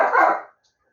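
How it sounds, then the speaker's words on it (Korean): A puppy lets out a single short bark indoors, close and fairly loud, then falls silent. "죄송합니다. 강아지가 이렇게 짖어서."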